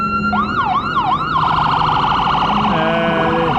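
A loud wailing fire truck siren sweeps up and down close by at a holiday lights parade, then shifts into a rapid warbling yelp over rumbling traffic.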